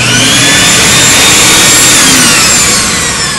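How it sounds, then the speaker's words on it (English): A working carpet cleaner's vacuum motor runs at full power, very loud and close, a steady high-pitched roaring whine with no break. "This is the good motor, and I'm going to show you what it looks like when it works."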